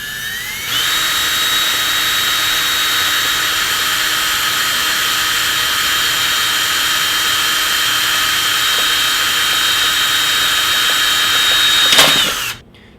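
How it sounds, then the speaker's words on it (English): A power drill with an 11/64 bit whirs steadily at high pitch for about eleven seconds, drilling holes for barn doors, close and loud, then winds down abruptly near the end. "drill into all these points here."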